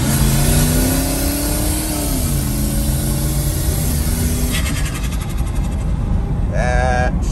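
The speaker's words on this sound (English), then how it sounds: "Just gonna mat it and drive and see what she does." A bed-mounted turbocharged 5.2 Magnum Dodge Dakota on 8 psi with no tune accelerates at full throttle, a steady loud engine roar with rising tone and turbo whine, continuous and close throughout, with a voice briefly audible.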